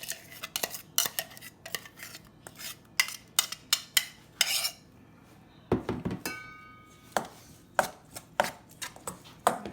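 Grated coconut mixed with ground red chilli paste for sambal, giving repeated close clinks, taps and scrapes of a utensil against a bowl in irregular bursts, with short quiet gaps between them.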